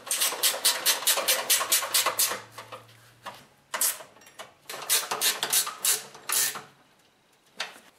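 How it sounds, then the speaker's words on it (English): Bolts being tightened on a snowblower belly pan, giving bursts of rapid metallic ratcheting clicks in several runs with short pauses between them. The sound is close and there is no talking. "And now tighten up all the bolts."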